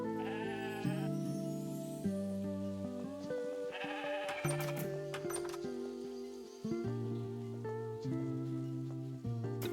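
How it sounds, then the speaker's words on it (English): Sheep bleating in the farming video game Discounty, repeated calls over a busy backdrop of game music and effects, with no talking. "Dirty sheep right there."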